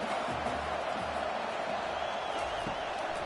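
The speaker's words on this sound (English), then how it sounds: "listen to this crowd noise. This stadium is vibrating." Crowd noise in a college football video game matchup between Tennessee and LSU, a constant loud stadium roar with faint cheering swells, unbroken across the clip.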